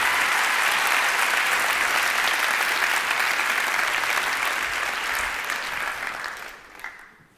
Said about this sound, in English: a big round of applause from all your friends